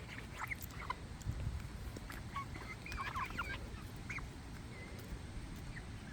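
Ten-week-old Americana chickens give faint, scattered chirps and clucks outdoors, distant and soft over a low steady background rumble.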